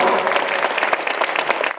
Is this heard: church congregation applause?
yes